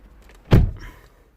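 A Vauxhall Astra J driver's door shuts with a single solid thump, followed by a brief rattling settle as it latches, alone with no talk.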